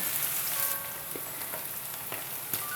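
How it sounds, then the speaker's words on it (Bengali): Chopped onions fry in a pan for a potato and loitta shutki (dried Bombay duck) curry, giving a steady close sizzle with a few soft pops and clicks throughout, no voices. "পেঁয়াজটা আমার ভাজা হয়ে গিয়েছে"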